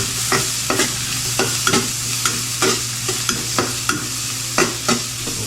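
Food frying in a little leftover oil in a pan, a steady sizzle with repeated rhythmic scraping clicks of stirring, close and continuous.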